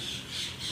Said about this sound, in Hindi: यहाँ पक्षी कितना बोल रहे